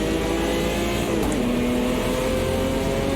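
A Puma GTB race car engine in the racing game Automobilista 2 drones loudly and steadily down the front straight in another car's slipstream, its pitch climbing slightly as it accelerates.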